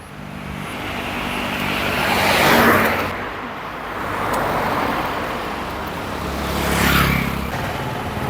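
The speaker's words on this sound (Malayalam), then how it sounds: "ലൈവായിട്ട് വണ്ടി വരുന്നുണ്ട് നോക്കട്ടെ" Vehicles pass on a road nearby, rising and fading in two broad swells over a steady low traffic rumble, with no speech over it.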